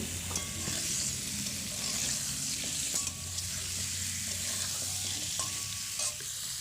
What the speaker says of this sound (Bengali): আমি যে কেটে রেখেছিলাম আলুগুলো সেগুলো দিয়ে দিচ্ছি, দিয়ে একটু হালকা ভাজা ভাজা করে নেব।